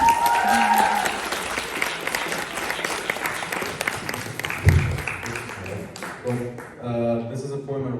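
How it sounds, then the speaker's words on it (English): An audience at a university arts festival's poetry open mic applauds a performer, a dense patter of clapping that carries on for several seconds before thinning out, and a voice then starts speaking near the mic. "Please give a big applause for him."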